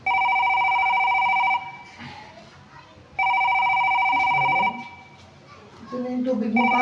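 A mobile phone rings loudly and close by in two long electronic bursts with a pause between, while children's voices and household noise are heard in the background.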